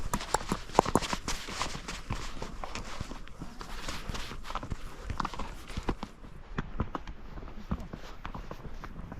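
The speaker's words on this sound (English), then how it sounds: "As I rode my horse through the valley" A ridden horse walks through a valley near Machu Picchu, its hooves making a steady, close, uneven clip-clop with sharp individual hoof strikes across the whole stretch, over light outdoor background noise.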